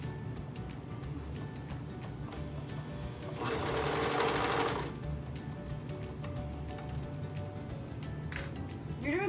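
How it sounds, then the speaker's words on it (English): A sewing machine stitches through layered fabric for underwear, a rapid whirring burst lasting about a second and a half amid quieter room noise and small clicks. "just make sure you're sewing through all those layers"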